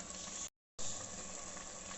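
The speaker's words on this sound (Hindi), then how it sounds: "5 मिनट तक हमने पालक और आलू को फ्राई किया है।" Spinach and potatoes fry in a pan with a steady, dense sizzle that cuts out briefly and then resumes at the same level, with no talking.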